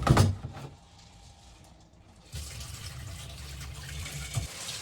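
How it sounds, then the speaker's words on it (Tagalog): Water gushes steadily into a pot of beans, a broad rushing pour that starts after a brief clatter and carries on to the end without talk. "lagyan ko lang siya ng madaming tubig"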